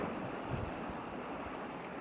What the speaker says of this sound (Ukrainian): Сьогодні море трохи штурмить.